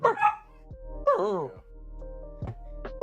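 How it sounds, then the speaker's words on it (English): A dog indoors gives a few short, muffled woofs and whimpery yips spaced apart, close and moderately loud, with a low steady hum beneath. "Is he sleeping and barking?"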